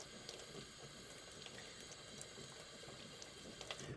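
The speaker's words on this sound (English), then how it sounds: "I am going to run this under the sink." Water runs from a sink tap over paint brushes at a ceramics painting session, a steady soft rushing hiss with small splashy ticks, quiet and continuous, with no speech.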